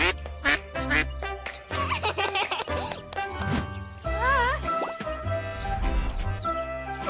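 Cartoon duck quacking beside a playground pond as food pellets plop into the water, with tinkling music and busy cartoon sound effects running throughout, the quacks loud and repeated near the middle.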